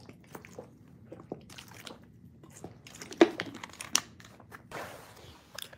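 A plastic water bottle crinkles and crackles up close while someone drinks, with soft scattered crunches, gulping and liquid sounds, fairly faint and without speech.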